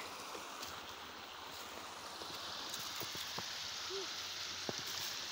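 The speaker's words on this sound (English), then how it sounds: "Just coming over here to check the creek." Water rushes and burbles steadily as a creek flows high nearby after rains, with a few faint clicks and drips over the constant wash.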